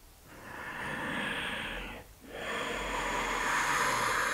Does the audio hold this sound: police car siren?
no